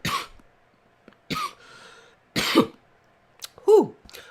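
A person coughs repeatedly in several short, harsh bursts, one sounding like a throat clear, close up with quiet gaps between them and no talking.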